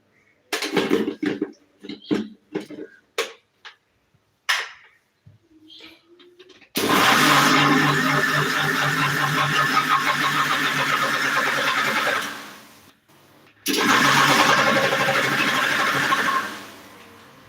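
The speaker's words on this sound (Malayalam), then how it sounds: "ഞാൻ മിക്സി എടുത്തിട്ടുണ്ട് രണ്ട് ഓറഞ്ചിൻ്റെ അവിടെ ഇരിപ്പുണ്ട് മിക്സി വെച്ചൊന്ന് അടിച്ചെടുക്കാം നന്നായിട്ട്" A mixer grinder blending oranges for juice roars loudly in two bursts, the first running about six seconds and the second shorter after a brief stop, following a stretch of sparse clicks and handling knocks.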